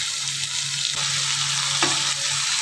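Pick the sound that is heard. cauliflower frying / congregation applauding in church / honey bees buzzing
cauliflower frying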